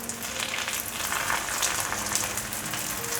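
Taro pieces pan-frying in oil, a steady close sizzle and crackle running unbroken and fairly loud with no talk over it.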